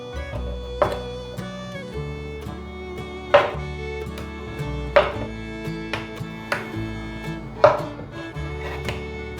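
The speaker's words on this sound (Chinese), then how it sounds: "把豆腐切丁" A knife dices firm tofu on a cutting board, with steady, close knocks on the board, some sharper than others, falling at an even pace over soft background music.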